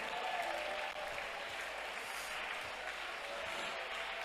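A church congregation claps together at a preacher's call, producing a steady, dense wash of applause that runs without break from start to finish.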